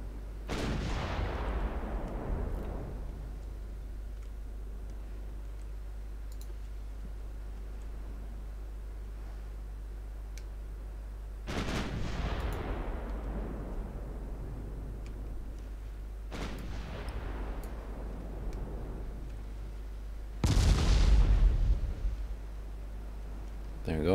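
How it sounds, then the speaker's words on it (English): Heavy naval guns from a warship battle in Ultimate Admiral Dreadnoughts, three deep booming salvos spaced several seconds apart, each with a long rolling decay over a constant low rumble. "6 guns firing."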